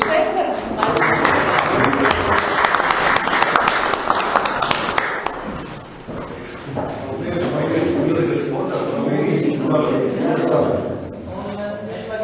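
A council meeting audience applauds Deputy Juris Šteinbergs with a burst of steady clapping that lasts several seconds and then fades. Speech from the room follows.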